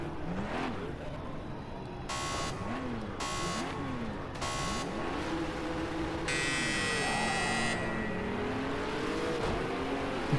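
A GT4 race car engine drones steadily in a racing video game, its pitch rising and falling through gear changes, overlaid with repeated electronic beeping tones and a longer buzzing alert.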